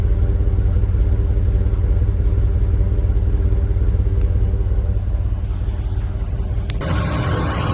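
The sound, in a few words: truck engine running after alternator install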